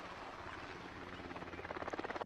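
A helicopter thrums close by, its rotor chop growing louder and more distinctly pulsed toward the end, heard alone without voices.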